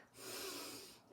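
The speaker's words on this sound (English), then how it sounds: "I breathe in" A single long, audible inhale through the nose during a standing stretch, rising after a forward fold, loud and close with no talking.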